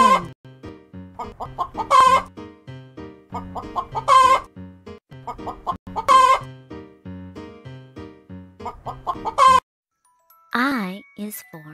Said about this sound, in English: H is for hen.